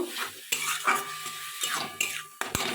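Aubergine and turmeric are stirred in a frying pan, heard as a series of sharp metal spatula scrapes and clacks against the pan in quick, uneven strokes over a faint sizzle, close up and with no voices.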